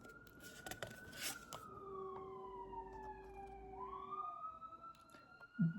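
A distant emergency vehicle siren wails in long sliding tones, faint and far off in an apartment complex, with a few soft knocks and a brief thump at the end.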